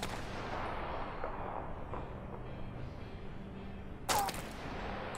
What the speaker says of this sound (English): That sniper wastes a lot of ammo